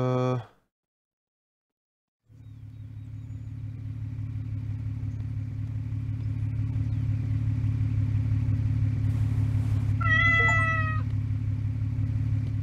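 A single short cat meow in the gas-station video game Pompacı Simulator 2, heard near the end over a steady low engine rumble that fills most of the clip after a brief tone and a pause of silence.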